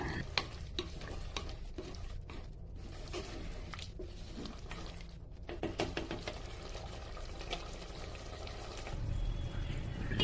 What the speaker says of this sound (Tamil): குழம்பு இப்போது கொதிச்சு சூப்பராக ரெடி ஆயிடுச்சு.